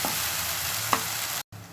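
A mango and coconut chutney mixture sautés in a pan with a steady close sizzle, one brief louder stir or clink near the middle, then a sudden short gap before the frying noise resumes.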